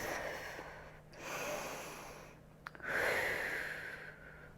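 Breathing during a yoga side stretch, with a few slow, audible breaths in and out, close and soft in a quiet room, a longer exhale near the end, and no speech.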